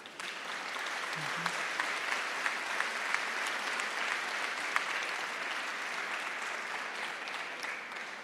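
An audience applauds award winners at a children's book congress press conference, a steady wash of clapping held at an even level for the whole stretch, with no voices over it.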